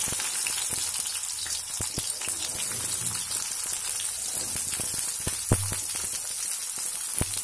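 Small onions frying in a pan for cashew curry, a steady bright sizzle with scattered crackles and pops, close and moderately quiet, with no talking.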